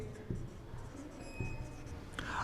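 Marker strokes on a board during a spoken English lesson: a few short scratchy bursts, close and fairly soft, with quiet room tone between them and no talking.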